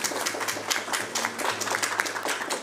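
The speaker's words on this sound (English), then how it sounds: "Today we have a clapping for public comment." Applause at a Board of Education work session after a public comment, a modest group clapping at a close, even pace, the individual claps distinct and sustained throughout.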